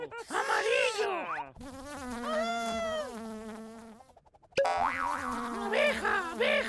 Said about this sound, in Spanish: ¡Abeja! ¡Abeja!